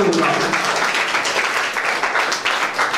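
Audience applause at a shawl felicitation in Armoor honouring a volunteer service group, a dense, steady crowd clapping that fills the whole moment without pause.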